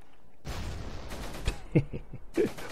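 High explosive shells firing and bursting in the Close Combat wargame, set in the fighting around Caen: a broad rumble of battle followed by several sharp, separate blasts and cracks at close range.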